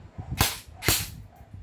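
An airsoft gun set to single fire lets off two sharp, close cracks about half a second apart, each a short bright snap over quiet room noise.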